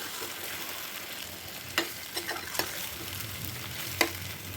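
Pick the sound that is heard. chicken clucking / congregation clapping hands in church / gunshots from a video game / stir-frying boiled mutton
stir-frying boiled mutton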